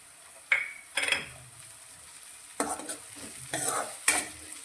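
Finely chopped medium tomato is stirred into a little hot oil in a pan for a murmura snack, sizzling steadily while a spoon scrapes and clinks against the pan in several strokes.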